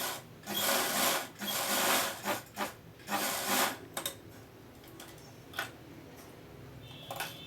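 Sewing machine stitching the cuff of a ladies' coat, in loud bursts of rapid needle hammering separated by pauses and shorter runs, close and without speech.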